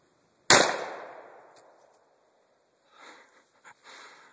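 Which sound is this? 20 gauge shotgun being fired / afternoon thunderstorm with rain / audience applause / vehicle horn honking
20 gauge shotgun being fired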